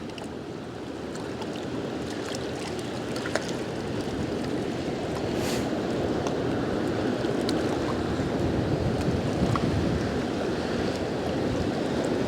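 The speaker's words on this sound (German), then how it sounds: "Also es stürmt jetzt richtig heftig" A strong, icy winter wind buffets outdoors in a steady, broadband roar, with faint water-like rushing mixed in and occasional gusts, no talking.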